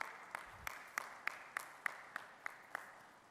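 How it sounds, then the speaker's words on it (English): Audience at a keynote speech at a fintech festival clapping in slow, evenly spaced single claps, about ten sharp hits in a steady rhythm, fairly faint and sparse rather than a full ovation. "Keep putting your hands together for him."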